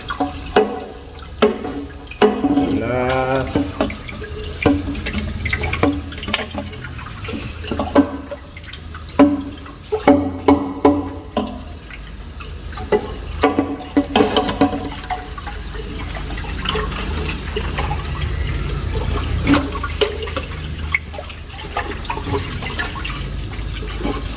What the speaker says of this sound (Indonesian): Sekarang kita bilas pakai air ini ya